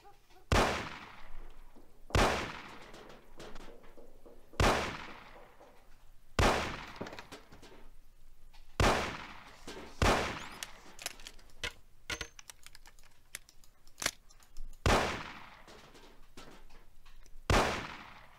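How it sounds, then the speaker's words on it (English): Sharp single pistol shots ring out one at a time at cans on a table in the Mafia PC game, about eight evenly spaced cracks with quiet pauses between them. "Let's see how you handle a gun. Shoot the cans off of the table."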